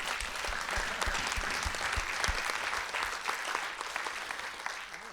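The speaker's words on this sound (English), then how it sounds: "I think a round of applause there." After a panel discussion, an audience claps steadily for around five seconds, a dense, moderately loud round of applause with a few low thumps early on.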